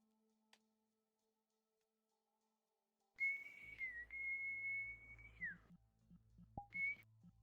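A person whistles a sustained, steady pitch that bends down and back, then breaks off and returns briefly; faint and thin in a quiet virtual-reality roleplay setting with low background rumble.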